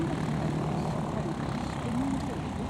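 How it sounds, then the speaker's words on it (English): A vintage Cessna 195 airplane at a vintage flying weekend, its engine giving a steady, broad propeller drone that stays loud throughout while a voice speaks over it. "when the 195 appeared, it was the top of the range at the Cessna aircraft construction."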